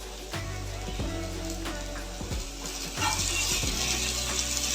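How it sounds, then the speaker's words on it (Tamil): Bitter gourd sautés with salt in coconut oil in a pan, with repeated scraping clicks of a spatula stirring over a soft sizzle that swells toward the end. "ஆட் பண்ணிக்கிட்டு கொஞ்சம் வதக்குவோம்"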